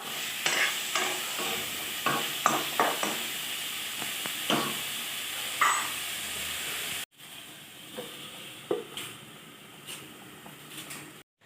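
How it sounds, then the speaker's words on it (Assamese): Onion leaves with ginger and garlic stirred and fried in a pan, for a pangas fish and radish stew: a steady sizzle with repeated scraping stir strokes, close and clear, briefly cut before continuing more quietly. "মাজে মাজে চাই লৰাই থাকিব লাগিব আৰু মাজে মাজে গাপ দি থাকিব লাগিব"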